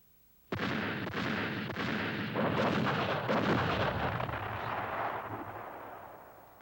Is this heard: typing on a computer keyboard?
no